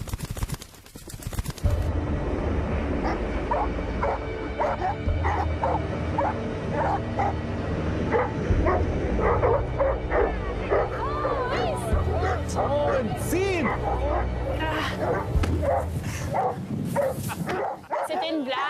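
Dogs bark and yip repeatedly through the whole stretch, with some whimpering mixed in, loud and close over a busy background, as ordinary dogs without special training are tested on their rescue instincts.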